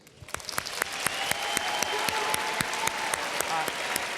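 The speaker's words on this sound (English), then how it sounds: "can we have a big round of applause" Steady applause from a US Senate town hall audience at Hampton University, many hands clapping at once in a dense, sustained patter that builds quickly and holds throughout.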